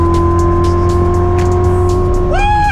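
An all-wheel-drive Tesla electric car drives up at a muddy outdoor dig site, giving a steady loud tonal hum with a rising whine near the end.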